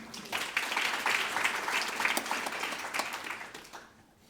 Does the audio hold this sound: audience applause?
yes